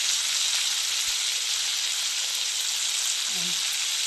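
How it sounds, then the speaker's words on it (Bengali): Neem leaves fry in hot oil with a steady, bright crackling hiss that holds evenly throughout, close and continuous, with a faint low hum near the end. "আমি আলাদা করে নিম পাতাটা ভেজে আগে তুলে নেব"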